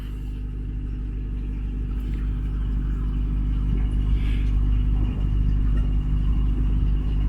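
Steady low engine rumble from a boat running at idle, continuous and fairly close, with a faint hum and no talk or other clear sounds on top.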